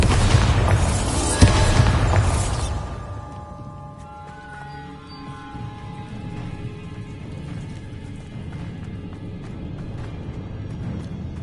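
The Bombarda blasting spell in Hogwarts Legacy detonates as one loud, booming explosion, followed by a long rumbling, crackling decay that fades into a quieter game ambience.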